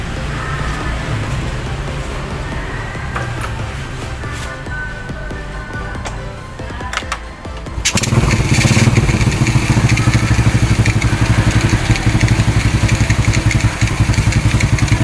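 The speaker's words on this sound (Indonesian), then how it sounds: "motornya udah kembali menyala dan nggak mogok lagi" A motorcycle engine, a Suzuki Satria-type bike being fixed for sudden stalling, rattles faintly at first, then starts loudly and settles into a steady, close, clattering idle that continues alone.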